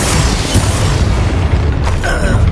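A loud magical blast from the Bombarda spell in the wizarding game Hogwarts Legacy, a booming explosion with mechanical clatter and crackling debris across a few seconds, dense and close.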